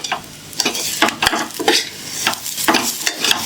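A spoon stirs rice with biryani masala and garam masala in a pan for veg pulao, giving repeated scraping strokes at a steady rhythm over a soft sizzle, close and clear with no talking.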